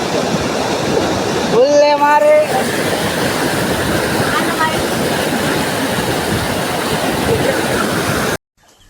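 Loud, continuous rush of a strong, fast water current where boys perform stunts, steady and close for several seconds, with a brief whistle-like tone early on, ending abruptly.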